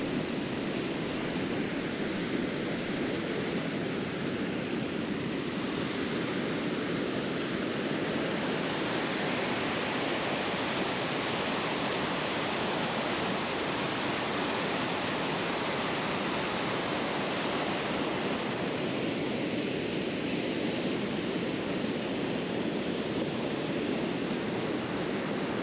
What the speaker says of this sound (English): Gotta love the sound of the rapids.